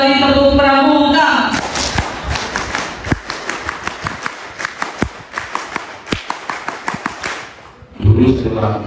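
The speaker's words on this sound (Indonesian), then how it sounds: "Dua kali tepuk pramuka." Scout-style pattern clapping by a group, a crisp run of rhythmic claps spread over several seconds, with talk heard before and after.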